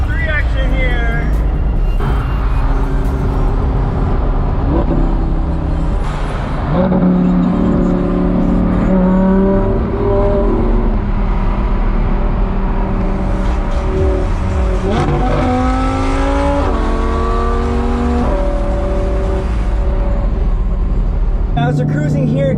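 A $185K Audi R8 sports car cruises on the road, its engine humming loud and steady with shifting revs and tire noise, while someone talks over it.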